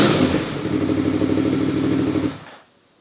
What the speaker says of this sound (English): you probably didn't know I had an SC Project exhaust on my MT10, and it's a little loud